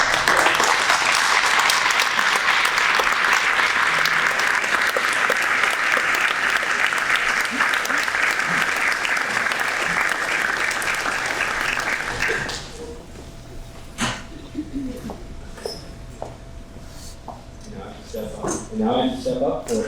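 An audience at an Eagle Scout Court of Honor claps loudly for standing veterans, dense sustained applause filling the room for about twelve seconds before it cuts off, followed by quieter room noise and scattered voices.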